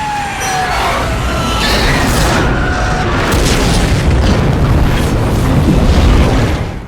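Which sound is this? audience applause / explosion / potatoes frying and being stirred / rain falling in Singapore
explosion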